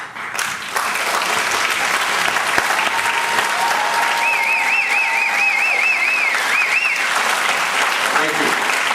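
Sustained applause from an audience honoring standing veterans at a 2010 Memorial Day ceremony in Davie County, steady and dense for the full length, with faint voices and a brief whistle-like tone riding over it.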